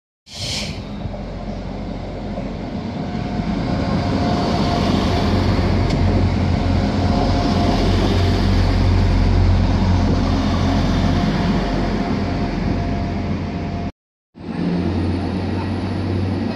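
Train pulling into Bridgend railway station, a loud steady rumble and rolling drone lasting throughout, with a brief cut near the end before the noise resumes.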